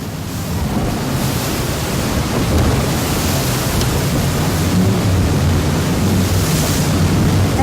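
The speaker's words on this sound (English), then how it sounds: "As the whole ocean tries to push through these small gaps, it creates a waterfall-like effect" Ocean tide surges through narrow gaps in a reef in the Kimberley, a loud, steady, waterfall-like roar of rushing water with wind buffeting the microphone throughout.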